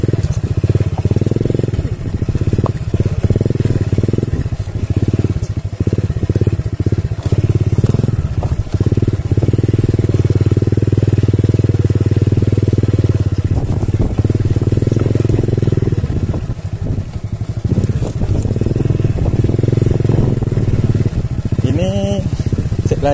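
A Honda Revo motorcycle used as a farm ojek for hauling rice grain runs loud and close, its engine droning steadily with small throttle swells and clatter throughout. A voice speaks over it.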